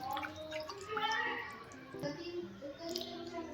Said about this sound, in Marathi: कलिजा आहे त्याला मी धुवून घेते स्वच्छ पाण्याने दोन ते तीन वेळेस